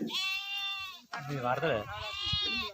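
A sheep bleats loudly nearby, a drawn-out wavering cry, followed by further bleats mixed with a person talking.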